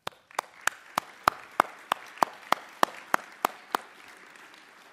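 Sparse, evenly spaced claps at a summit keynote, roughly a dozen sharp hand claps ringing out one at a time rather than a full crowd ovation, fairly close and moderately loud.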